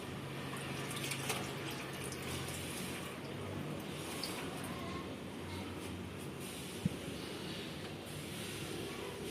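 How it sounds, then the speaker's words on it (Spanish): Water poured into a container during a gas law experiment, a steady splashing, trickling wash running continuously with a brief sharp knock partway through. "Por si acaso añadiré un poco más de agua."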